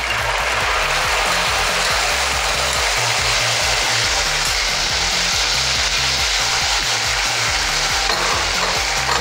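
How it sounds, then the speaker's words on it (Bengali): Whole spices (cinnamon, cardamom) and a prepared masala paste are stirred in hot oil in a pan while making shahi paneer, giving a steady, loud sizzle with continuous scraping and stirring throughout, no voices. "এবার এরমভাবে নাড়তে হবে।"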